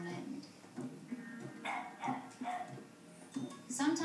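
A dog barks repeatedly in short bursts, fairly close, over a steady background with voices.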